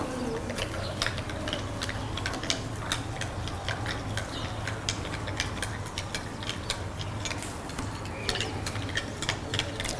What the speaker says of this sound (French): Il faut tourner, il faut remuer jusqu'à ce que tout se dilue.